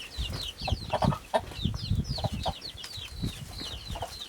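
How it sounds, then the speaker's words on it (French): On a mountain farm, a hen clucks in low, soft bursts while her chicks keep up a stream of high, rapid peeping close by. "la poule avec ses petits bébés"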